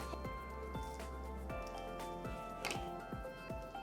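Water from a bottle poured into hydrophobic magic sand, giving a steady wet trickle with repeated soft squishy drips and plops throughout, close and fairly loud.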